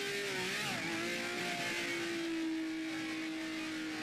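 A vintage Eagle race car engine in the Grand Prix Legends video game holds a high, steady whine at Monza, dipping briefly at the start before climbing back through 8,000 RPM to a sustained, loud rev.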